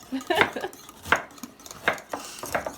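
Eggs are whisked in a bowl, close and moderately loud, with irregular clinking strokes against the sides and a few sharper taps, and no talk.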